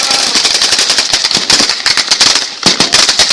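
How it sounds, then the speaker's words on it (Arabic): Rapid bursts of gunfire crackle through an armed attack on a military position, shots tightly clustered and loud, with a brief lull before another volley. No one speaks. "كتيبة فجر الإسلام التابعة لأمجاد أمة تقوم باستهداف سرية خميس"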